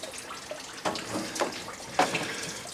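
Coolant runs out of a 1979-1993 Dodge truck radiator in a steady trickling splash, close by, with a few louder gurgles and drips.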